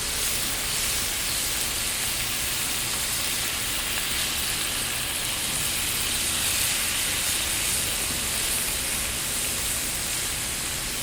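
Cinnamon-sugar glazed apple slices sizzle on a grill, a loud, steady hiss with a crackling texture, continuous and even throughout with no talk.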